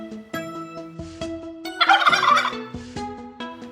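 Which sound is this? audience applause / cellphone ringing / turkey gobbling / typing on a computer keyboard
turkey gobbling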